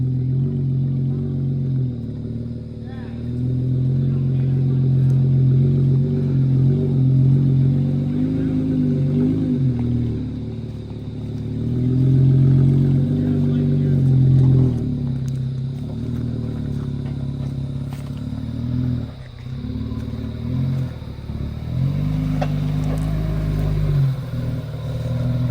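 A big Jeep, freshly fitted with PSC and Atlas parts and running without skid plates, drives along with a steady low engine rumble and some clatter, loud and close throughout, with no voices.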